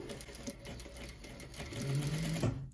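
Industrial sewing machine stitching a child's sweatsuit seam, tacking back and forth with a close, steady mechanical whir that rises slightly toward the end, no talk.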